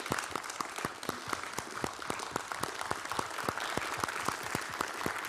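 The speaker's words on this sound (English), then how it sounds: "please give them one last round of applause" A modest audience at the close of a keynote talk gives scattered applause, with distinct individual claps repeating at a steady pace, faint and somewhat distant, with no talking over it.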